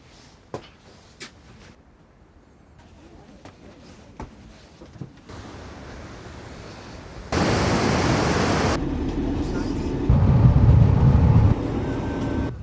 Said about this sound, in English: The waterfall is behind me.